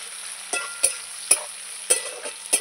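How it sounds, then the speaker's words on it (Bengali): Onions frying in a pan for a spicy chicken curry, a steady sizzle broken by several sharp scraping stirs of a spatula at a fairly even pace, close up, no voices. "পেঁয়াজটা একটু ভেজে নেব।"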